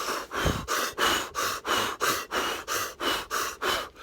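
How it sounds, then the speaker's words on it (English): Deep belly breathing exercise with rapid, forceful rhythmic breaths, about eleven sharp, even pulses in quick succession, close and loud, with no talking. "he does this breathing exercise"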